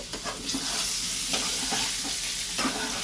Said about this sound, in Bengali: আলুগুলো মোটামুটি আমার ভাজা কিন্তু হয়ে গেছে